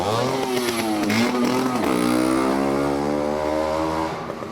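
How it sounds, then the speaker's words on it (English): A motorcycle passes on a street near Union Square, its engine loud and close, then falling in pitch as it moves away over about four seconds, with no talk. "That was a motorcycle"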